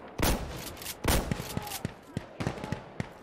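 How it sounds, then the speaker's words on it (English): Shotgun blasts in the video game Insurgency Sandstorm, a few loud booming shots spaced apart, followed by sharper cracks of further gunfire nearby. "I never really use shotguns in this game."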